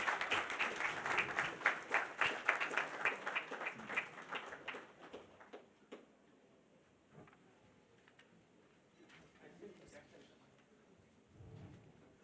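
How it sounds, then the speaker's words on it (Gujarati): Audience applause fills a hall at an MOU exchange ceremony for a spice processing unit, a dense burst of clapping that fades after about five seconds into scattered claps and room murmur. "આવો આપણે સૌ આ ક્ષણને તાળીઓના ગુંજારવ સાથે વધાવીએ."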